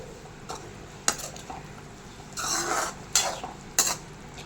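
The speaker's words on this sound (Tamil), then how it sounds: "நல்லா கிளறி விடுங்க" A spoon stirring mushroom pepper masala in a pan, with scattered scrapes and clinks against the metal over a faint sizzle, several sharp knocks standing out, no voices.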